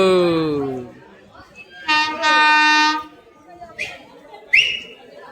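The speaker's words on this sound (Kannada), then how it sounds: "ಬಾಯ್ ಗೈಸ್, ಟ್ರೈನ್ ಬಂತು" A train pulls into a station on a family trip to Tirupati, sounding a long, loud harmonic horn blast followed by shorter whistle-like toots. A person talks briefly at the start.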